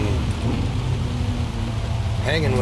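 Steady rain in the racing game Gran Turismo 7 at Spa, a continuous hiss of spray beneath a droning race car engine, with a voice briefly rising near the end.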